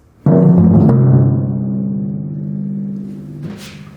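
Low timpani notes are struck in a short rhythm, two quick hits ringing into a long resonant tail before another stroke lands.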